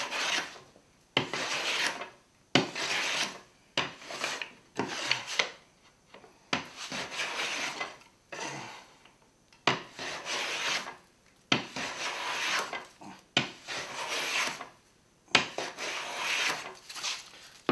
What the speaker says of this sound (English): I'm going to pass a hand plane over this and clean up these burn marks from the saw